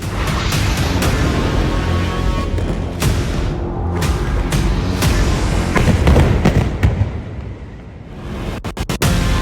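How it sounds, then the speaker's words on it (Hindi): Loud, rumbling explosions from Israeli airstrikes on the Houthis burst one after another, deep booms and sharp cracks merging into a dense, continuous roar. "2000 धमाके।"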